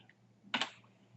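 A single brief burst of keystrokes on a computer keyboard, close and fairly soft, after a short quiet pause.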